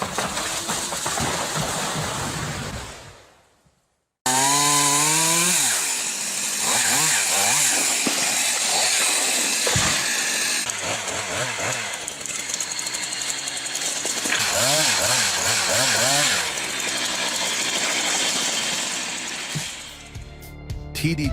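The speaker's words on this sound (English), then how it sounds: "You are watching the power of the Husqvarna 395XP chainsaw" A Husqvarna 395XP chainsaw felling a large pine tree, a loud continuous engine roar revving up and down as it cuts, briefly stopping near the start before running steadily to the end.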